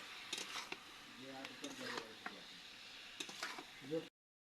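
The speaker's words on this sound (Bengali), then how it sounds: "সব সমস্ত মশলাগুলো দিয়ে একটু হালকা করে কষে নেব আবারও" Spices for a spicy mutton curry are briefly stir-fried in a pan, giving soft scraping and clinking of a utensil against metal over a low sizzle, with a few sharp ticks near the end.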